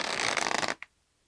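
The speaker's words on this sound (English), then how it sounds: "Shuffle the cards while you think of your question." Tarot cards being shuffled by hand, a dense close riffling rustle that runs for under a second, then stops with one small soft tap and falls to quiet.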